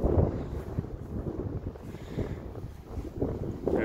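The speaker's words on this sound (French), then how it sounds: "Il y a un petit peu de vent encore aujourd'hui là" Wind gusts buffet the microphone outdoors at a camping ground near Draguignan in the Var, a low rumbling rush that swells and fades unevenly, with no one speaking.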